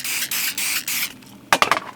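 Several short hissing bursts of an aerosol glitter spray can spraying onto a flower claw clip in quick succession, followed by a rattling clatter near the end.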